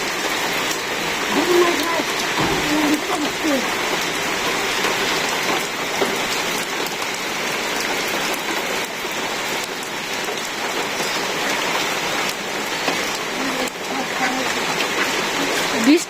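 Heavy rain pours down steadily on surfaces in a rural village during rice harvest season, a loud, dense, unbroken hiss with splashing drops and no breaks throughout.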